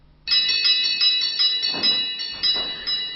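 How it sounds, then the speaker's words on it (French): Small bright carillon bells chime in a quick, repeating pattern, their high metallic tones ringing on and overlapping, with a faint crackling underneath. "On peut encore faire sonner les cloches, celles d'un carillon"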